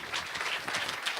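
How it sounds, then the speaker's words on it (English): Steady, dense clapping from a crowded room at an elementary school DARE graduation, applauding a class as it is announced, sustained evenly for the whole moment with no voices over it. "And a big round of applause for"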